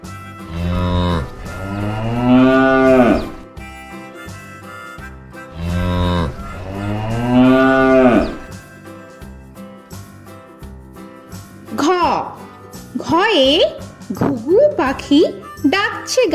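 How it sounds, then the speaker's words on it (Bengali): A cow and calf give two long, loud, drawn-out moos close by, followed by a child's sing-song speech with light tinkling in the background. "গয়ে গরু বাছুর দাঁড়িয়ে আছে"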